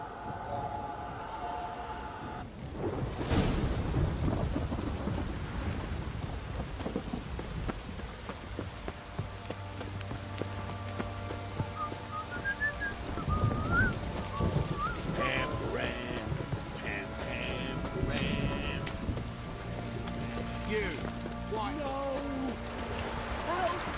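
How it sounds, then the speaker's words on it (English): Steady rain patters in the background while thunder rumbles low in The Witcher 3: Wild Hunt, with clopping hooves, game music and a voice speaking over it. "stop raining, my arse will rot off."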